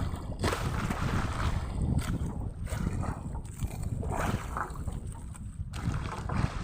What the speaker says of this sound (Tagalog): medyo malalakas talaga ang alon ngayon